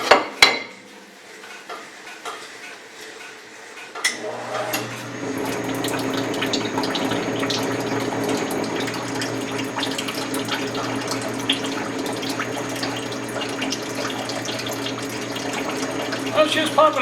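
A coolant pump newly fitted to a Frantom rock saw pushes water through, with a soft rushing, trickling flow and a low steady hum that starts after a few quiet seconds and then runs evenly.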